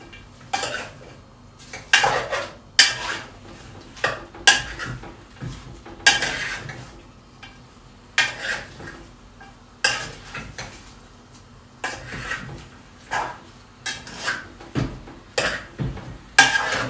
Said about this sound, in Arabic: هقلبهم برضو كده يتطعموا كده